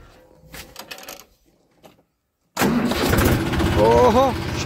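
A tractor engine fires up suddenly partway through after some quiet, faint activity, then runs loudly and steadily at idle close by, with a voice briefly audible over the rumble.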